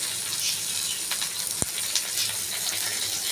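Bottle gourd leaves wrapping morola fish fry in a little oil, giving a soft steady sizzle with one sharp click partway through.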